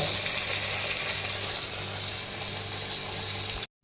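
Beef fry cooked without coconut oil, onion or tomato sizzles steadily in a pan, a dense continuous crackle that cuts off abruptly at the end.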